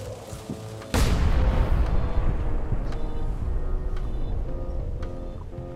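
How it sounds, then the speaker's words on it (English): A cannon fires in the video game Return to Monkey Island: a single heavy boom near the start, followed by a long rumbling decay over a low background. "Ready for cannon firing."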